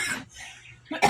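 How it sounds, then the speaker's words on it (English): A person coughs in a room heated by a wood-burning stove, giving a short harsh burst, then a pause, then a second louder cough, close to the microphone. "I'm like coughing"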